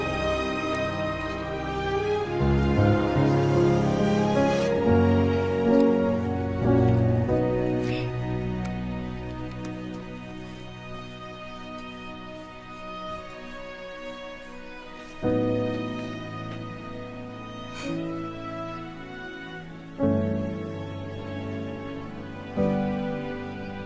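Excerpt of the Bridge to Terabithia film score starting at the measure 21 modulation: full, sustained melodic music with rich chords, swelling and fading, with fresh phrases entering strongly near the middle and end.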